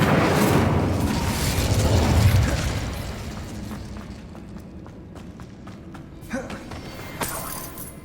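An Incendio fire spell cast in a wizard video game erupts in a loud, roaring burst that swells over the first couple of seconds, then fades into a low rumble with a few sharp pops near the end.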